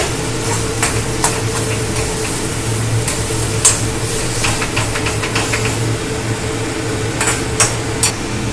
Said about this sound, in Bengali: চিনিটা দিয়ে একটু আমাদের মিশিয়ে দিতে হবে।